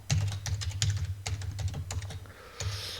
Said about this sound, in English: So my root password, I'm going to type that in.